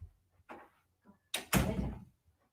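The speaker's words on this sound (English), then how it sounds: "the dog just opened the door" A door being pushed open by a dog indoors, heard as a faint early bump followed by a sharp knock and a louder rattling swing of the door, close by, with no talking.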